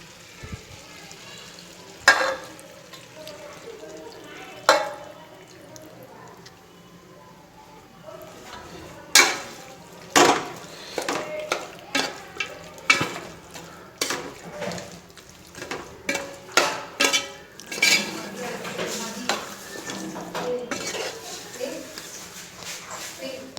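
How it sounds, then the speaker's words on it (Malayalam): Coconut milk goes into a simmering pepper chicken curry, with a low steady bubbling sizzle under sharp clinks and scrapes of a spoon stirring against the pot, coming quicker and busier toward the end. "ഇനി ഇതിലേക്ക് ഒരു തേങ്ങയുടെ പാല് അതുകൂടെ ഇതിലേക്ക് ചേർത്ത് കൊടുക്കാം."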